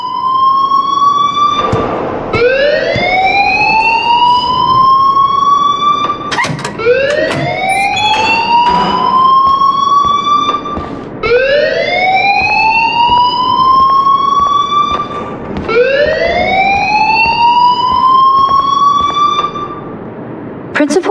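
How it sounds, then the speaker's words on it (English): A school alarm in the video game Life is Strange wails loudly and repeatedly, in rising, siren-like sweeps that repeat every few seconds and fill the whole stretch. "please turn off that alarm since that's your job"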